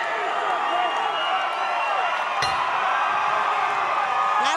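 Spectators at a super middleweight championship boxing fight keep up a loud, continuous roar of cheering and whistling, with scattered shouts and claps rising from the crowd.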